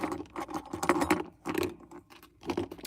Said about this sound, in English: do you guys like my Kamen Rider keys?